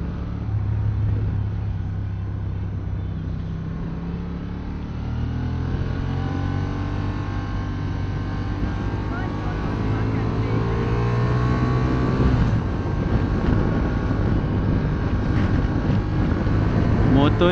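A Honda XL750 Transalp motorcycle rides among cars in traffic with a steady engine drone. The pitch rises and sweeps as it accelerates, under heavy wind rush, and grows louder toward the end.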